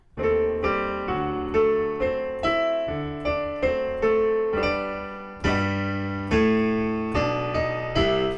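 A piano plays a bouncy ragtime-style lead-in phrase from The Entertainer, bright chords and stepping bass notes in a lively rhythm, close and clear with no voices.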